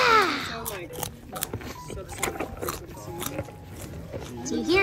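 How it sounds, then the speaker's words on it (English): A large 2,000-pound animal at an alpaca farm in Santa Barbara crunches and chews long treats, with soft, irregular bites close by beneath people talking. "Do you hear him chewing?"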